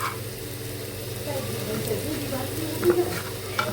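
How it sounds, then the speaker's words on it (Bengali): Four eggs frying together in a pan give a steady, close crackling sizzle with a low background hum. Brief louder pops and clinks stand out near the end. "চারটা ডিম ভেজে নিচ্ছি"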